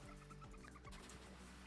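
Squawkabilly, a parrot-like Pokémon, gives its cry in a Pokémon video game: a short run of clucking, fowl-like squawks over steady game music, with no talk.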